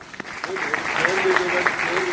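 An audience claps at a mindset and success seminar, the applause swelling and holding steady throughout, with a voice speaking over it.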